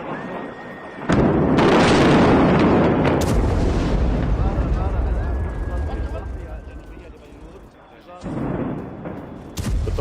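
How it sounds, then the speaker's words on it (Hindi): Heavy explosions from Israeli missile strikes on buildings in southern Beirut, with a loud booming blast near the start and another a couple of seconds later, followed by a long rumbling roar under voices. "इजरायली हमले से दहला पूरा इलाका।"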